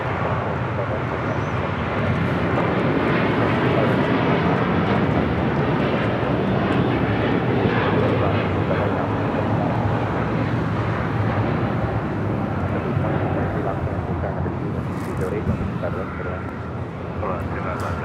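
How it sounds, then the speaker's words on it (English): Qatar Airways Airbus A350-1000 jet taking off from LAX, a loud, steady roar of engines sustained throughout with broadband rumble; a voice talks underneath. "This is Qatar Airways 742 taking off to Doha on the A350 1000"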